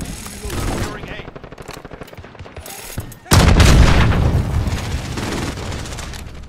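Heavy, sustained automatic gunfire and explosive bursts erupt in a Call of Duty: Modern Warfare multiplayer match, loud and close, with scattered game voice callouts mixed in.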